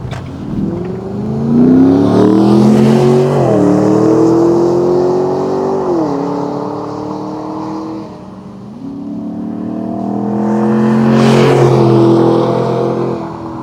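A 2007 Ford Mustang Shelby GT with a 4.6-liter overhead-cam V8 revs up and passes by twice, its loud roar rising and falling with gear shifts as it approaches and recedes.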